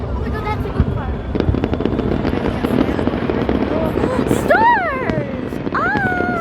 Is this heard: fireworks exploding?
yes